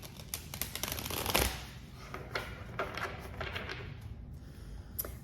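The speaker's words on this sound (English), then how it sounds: "I don't know why I have to shuffle this 3 times, but I do." Tarot cards being shuffled by hand, giving a run of soft riffling flutters and light taps with a sharper riffle burst near the start, close and fairly quiet with no talking.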